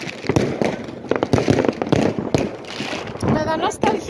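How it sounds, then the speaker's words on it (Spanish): New Year fireworks over the Glomma river in Norway crackle and pop in dense, continuous bursts with sharp bangs, heard from a crowded street nearby with people's voices mixed in. "Fuegos artificiales, la gente sale aquí a la calle, aquí en el río Gloma, a degustar estos fuegos artificiales."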